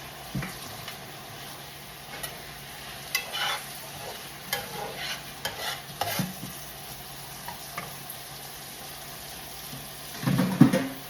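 Potatoes frying in reused fish oil in a pot, giving a soft, continuous sizzle with scattered stirring clatters and a louder burst of bubbling near the end.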